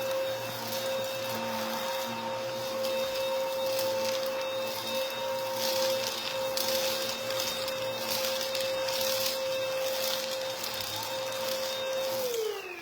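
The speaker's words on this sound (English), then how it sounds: "Okay, here we go. Again, easy vacuum." A vacuum cleaner runs steadily close by, a continuous droning whine with a constant pitch that drops slightly at the very end.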